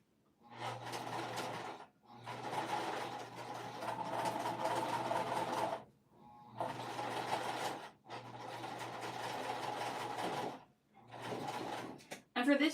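Domestic sewing machine stitching across vinyl bag webbing, running in several sustained bursts of a few seconds each with short pauses between, a steady close mechanical whir with a low hum, and faint talk at moments.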